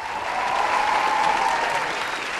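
Audience applause for a female singer at a Vietnamese comedy and music show, a dense continuous round of clapping from an indoor crowd.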